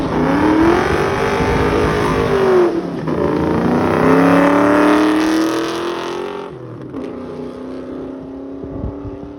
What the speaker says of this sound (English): a little smoky burnout, you know, just to set the tires